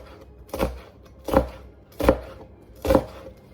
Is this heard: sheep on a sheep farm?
no